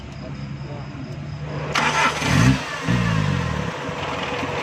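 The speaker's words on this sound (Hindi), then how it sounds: "गाड़ी स्टार्ट करो।" A petrol car with a misfire fault, one that runs fine on CNG, cranks and catches, then revs up unevenly and settles into a rough idle close by.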